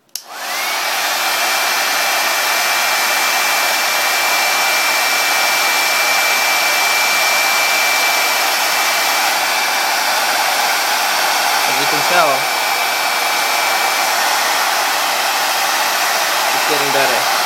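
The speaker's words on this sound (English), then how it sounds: "hair dryer and put it on high and just blasted away" A hair dryer set on high blasts steadily and loudly at close range, used to defog a pair of vintage Nike Air Jordan XIII sneakers, with a faint whistling tone and a couple of brief handling clicks.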